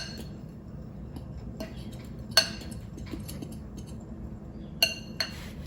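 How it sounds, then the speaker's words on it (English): A fork or spoon clinks against a bowl while scone batter is mixed, giving a few sharp metallic taps over a soft steady stirring rustle, close and fairly quiet. "Now we're going to mix it with a fork or a spoon."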